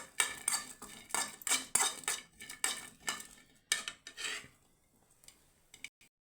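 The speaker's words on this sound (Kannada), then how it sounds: "ನೋಡಿ, ಈ ಥರ ಹುರ್ಕೋಬೇಕು ಮೆಣಸಿನ್ಕಾಯಿನ." Eight green chillies are roasted in a pan while a utensil scrapes and clatters against the metal in rhythmic strokes. The sound is close and quiet and trails off near the end.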